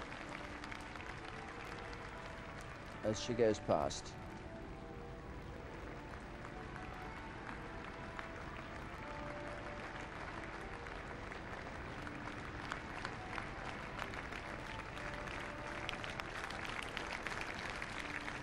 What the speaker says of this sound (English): Applause this time